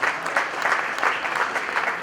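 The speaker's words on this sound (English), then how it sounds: "Let's give Karina Garcia, let's give this princess a big round of applause." An awards-event audience breaks into applause, a full, steady roar of clapping at moderate distance that holds evenly for the whole moment without anyone speaking over it.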